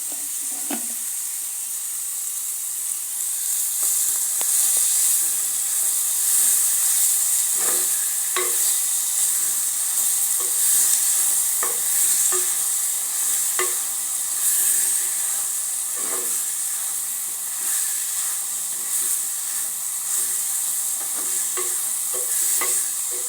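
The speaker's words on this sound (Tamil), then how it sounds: "இதை கொஞ்சம் வதங்க விட்டுக்கலாம்." Vegetables sauté in a pan for bread kothu, a continuous close frying hiss broken by frequent light scraping and stirring clinks from a utensil against the pan, no voices.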